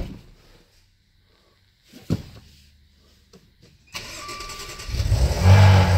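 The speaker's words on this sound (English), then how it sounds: "So when you enter the vehicle, start the vehicle." A Maserati Ghibli starts up: a few faint clicks and a short thump, then the starter cranks and the engine catches, rising into a loud, steady idle close by.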